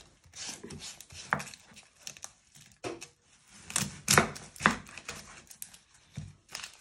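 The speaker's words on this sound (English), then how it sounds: "The first step is to chop your ends off your onion using your knife." A kitchen knife chops the ends off an onion on a cutting board, giving a run of close, sharp taps and thuds with brief pauses between cuts.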